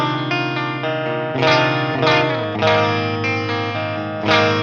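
Electric guitar played with a clean tone through a PRS MT15 amp, with mids raised and bass lowered, ringing chords with a sustained, shimmery, slightly chorused sound and fresh strums at regular intervals.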